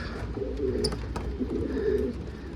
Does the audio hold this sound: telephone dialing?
no